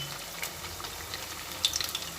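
Semolina sweets frying gently in oil over a low gas flame, a soft, steady sizzle with faint crackles and a few brighter pops partway through, close and quiet with no talking.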